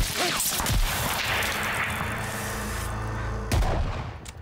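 A sniper rifle shot in Call of Duty Vanguard: a single sharp report lands near the end over dense, rumbling battlefield ambience, with a short crack earlier in the clip.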